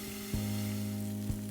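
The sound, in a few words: water sizzling in a covered pan with pumpkin mochi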